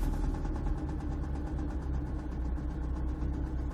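A Honda S2000 engine idling steadily after a new fuel pump was fitted, a close, continuous low rumble with faint rattling and no talking.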